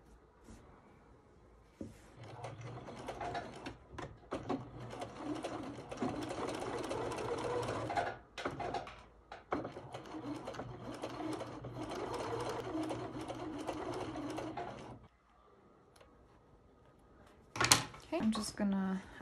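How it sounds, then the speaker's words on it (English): A sewing machine stitches a doll dress from corner to corner, a close steady mechanical whirr running in two long bursts with a short pause between, then a few clicks and handling noises at the end; a voice talks over parts of it. "I'm just gonna sew it from one corner to the other."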